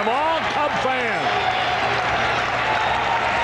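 Chicago Cubs fans at a baseball stadium roar in a dense, sustained crowd noise, with a commentator talking over it.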